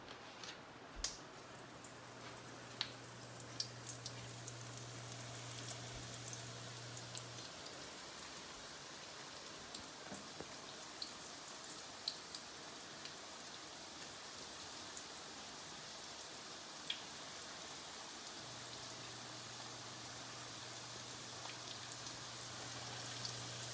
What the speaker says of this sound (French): une belle dizaine de petites brochettes que nous allons maintenant frire dans mon poêlon ici à l'instant